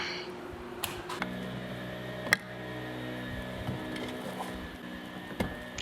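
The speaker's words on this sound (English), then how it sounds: "the window gets slower and slower as I'm raising it" A failing power window motor in a Subaru Forester slowly raises the glass with a low, steady mechanical hum, marked by a few sharp clicks and knocks along the way.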